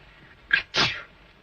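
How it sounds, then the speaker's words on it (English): A girl gives a single sharp sneeze, a quick intake followed by a breathy burst, close and alone in a quiet room. "My goodness, she sneezed."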